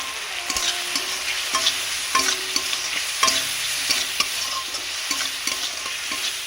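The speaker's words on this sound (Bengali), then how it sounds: "ভালো করে ভেজে নেব" Salt, turmeric and red chilli powder fry in a pan for a sweet-sour grape chutney, with a constant sizzle under frequent rhythmic stirring clicks and scrapes from a spoon.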